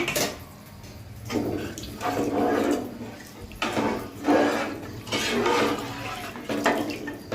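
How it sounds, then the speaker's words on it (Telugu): Water is poured into a pan of fish for fish curry, coming in several gushing, splashy pours of a few seconds each with short pauses between them, close and moderately loud. "కొన్ని వాటర్ చేపలు మునిగేంత వరకు వేసుకోవాలండి"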